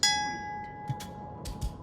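A gate bell in the Gollum game rings once with a clear, sustained metallic tone that slowly fades. A few soft thuds and scuffs follow nearby.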